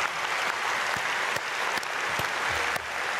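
A church congregation claps together in a continuous wash of applause, with a few sharper individual claps standing out over the crowd's even patter.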